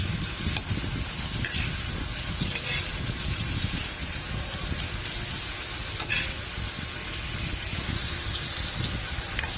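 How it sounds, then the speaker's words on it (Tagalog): Shrimp sauté with onion and garlic in a hot pan, giving a loud, continuous sizzle with occasional stirring scrapes throughout. "ilagay ko na ang ating hipon na sahog ng aking langka. Igisa muna natin dyan"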